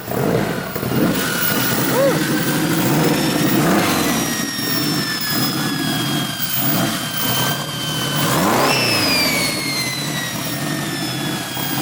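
A turbocharged Honda Civic built for 600 horsepower with all-wheel drive revs close by, its engine note rising and falling over a continuous turbo whine that sweeps up in pitch.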